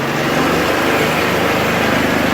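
A small engine idling on wood gas from a wood gasifier, running steadily at constant speed, loud and close with a continuous, even drone and no talk.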